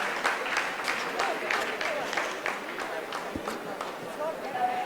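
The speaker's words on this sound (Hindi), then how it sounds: "आप इस तालियों के गड़गड़ाहट को सुन सकते हैं" Scientists applauding in mission control during the Chandrayaan-3 soft landing, steady clapping from a room full of people with scattered louder claps, with a voice talking over it.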